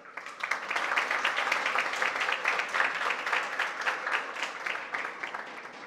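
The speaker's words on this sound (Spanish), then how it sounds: "Fuerte el aplauso." An audience at a regional oratory contest award ceremony in Veraguas, Panama breaks into applause, with distinct individual claps audible, swelling quickly and holding steady at a moderate distance before easing slightly.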